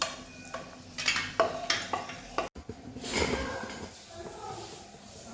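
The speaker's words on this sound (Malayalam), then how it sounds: "വേറെ പാത്രത്തിലേക്ക് മാറ്റുന്നു." Cooked grapes are moved into another pot in a home kitchen, with soft scraping, stirring and clinking of a spoon against metal, a few sharper clacks, and a faint sizzle underneath.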